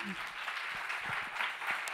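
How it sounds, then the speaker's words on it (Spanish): People gathered at a library reading event clap to kick things off, a soft, fairly distant patter of applause. A voice is briefly audible at the very start. "Aplauso para arrancar."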